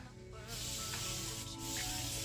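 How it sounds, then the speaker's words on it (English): A spray bottle misting hair locs gives a steady hissing spray continuously for a couple of seconds, close and fairly even, with no voices. "I'm just spraying right now, just misting the locks"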